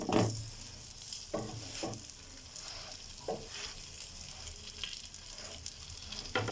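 Potato tacos fry in a little oil in a pan, a soft steady sizzle broken by a few nearby stirring and turning clinks, with no talking.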